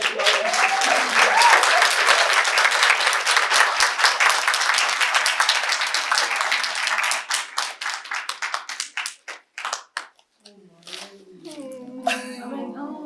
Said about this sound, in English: So can we please clap for them?